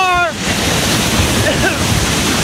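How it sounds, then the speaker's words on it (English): An intense wind gust during Hurricane Rita in Beaumont, Texas, roaring loud and broadband against the microphone, with a person talking over it. "This is the most intense gust we've had thus far. You can maybe hear it."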